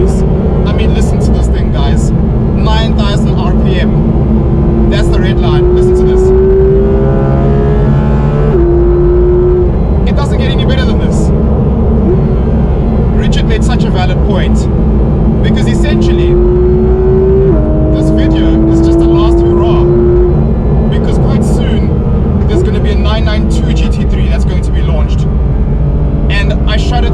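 A Porsche 911 GT3 RS of the 991.2 generation revs its engine toward a 9,000 RPM redline, loud and close, with rising and falling engine pitch and repeated revs over a continuous roar, while someone talks over it.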